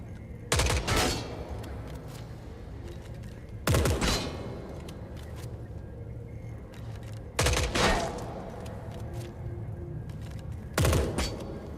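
Four separate short bursts from the Spectre gun in the shooter game The Forever Winter, loud and evenly spaced about every three seconds over a low background hum.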